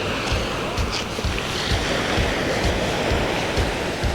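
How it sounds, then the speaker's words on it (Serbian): Calm sea at a beach in Malaga, with sand near the promenade and shingle by the water: a steady, soft wash of surf with gentle recurring lapping, and no voices. "More je skoro sasvim mirno."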